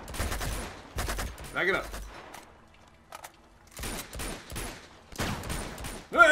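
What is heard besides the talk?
gunfire in the video game Uncharted 2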